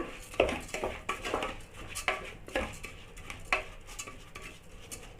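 Rice is stirred in a pot for ven pongal. Close, irregular clinks and scrapes of a spoon against metal come in quick bursts, with a faint patter of grains between them.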